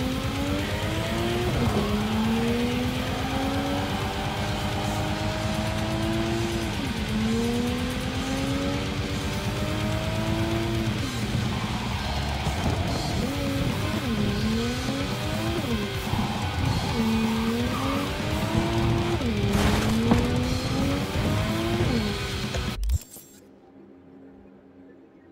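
Car in Cyberpunk 2077 driving fast and skidding: a loud engine revs up and down through repeated gear shifts with tire noise, then cuts off abruptly near the end.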